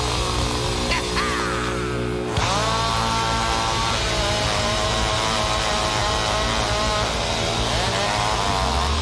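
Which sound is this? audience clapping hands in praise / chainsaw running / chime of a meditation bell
chainsaw running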